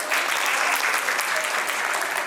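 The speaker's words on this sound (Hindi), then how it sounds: "Big round of applause for that." Steady, dense applause from an audience at a school annual day for mentally challenged children, filling the whole stretch at an even level with no breaks and no talk over it.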